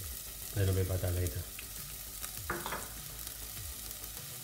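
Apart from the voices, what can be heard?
oil frying in pan for sauce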